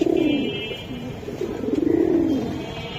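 Giribaz pigeons coo nearby, with soft warbling calls rising and falling in a few repeated phrases over a faint background hum.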